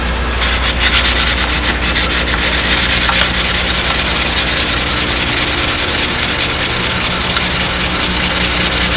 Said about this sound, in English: I take 600 sandpaper and just dull out the paint